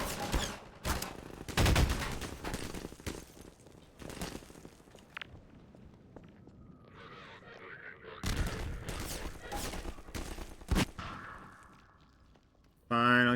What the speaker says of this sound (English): Fine, I'll use my gun.